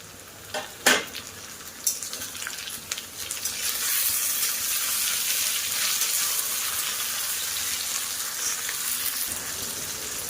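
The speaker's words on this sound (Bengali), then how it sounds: "পেঁয়াজটা একটু ভাজা হয়ে গেলে এবার এখানে দিয়ে দেবো কেটে রাখা টমেটো" Chopped tomatoes dropped into frying onions, a few loud knocks and clatters followed by a rising, steady hiss of sizzling oil that holds close and strong to the end, no talking.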